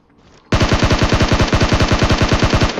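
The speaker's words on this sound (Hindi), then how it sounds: "गन शॉट्स आ रहे थे," Rapid automatic gunfire in the PUBG Mobile video game, a loud sustained burst of evenly spaced shots lasting over two seconds after a brief quiet lead-in.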